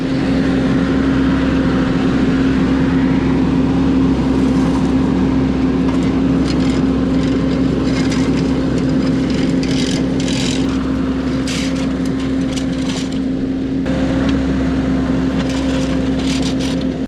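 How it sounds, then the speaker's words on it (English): A mini skid steer fitted with a landscape rake scrapes ruts out of the ground; its engine drones loudly and steadily at close range throughout. "It kind of scrapes the rut away, but it also kind of scrapes a bunch of other stuff away."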